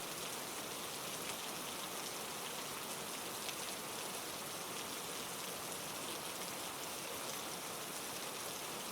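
Steady rain falling at night, a dense, even hiss of drops that stays constant and fills the whole stretch without pause, with no voices.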